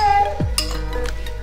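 Strawberries are stirred with syrup and cinnamon in a dish, with a quick clink and scrape of utensil against the dish close by, followed by soft rustling movement over a low hum.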